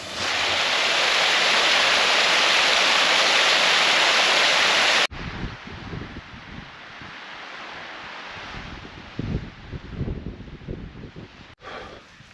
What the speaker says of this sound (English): there's some really lovely little waterfalls.